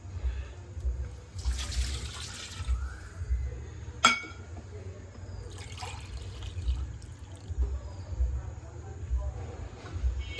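Three glasses of water poured into a pot for Mehedi pilau rice: separate splashing pours, each lasting about a second, with a sharp clink between them over a quiet low hum.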